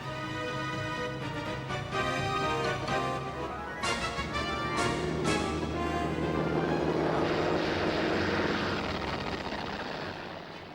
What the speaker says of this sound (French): Leurs avions décollent du Hirvu, leur dernier porte-avions.